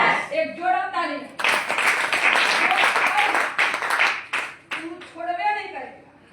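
An audience at a product seminar for DXN products bursts into loud clapping for several seconds, with someone talking just before and right after the applause.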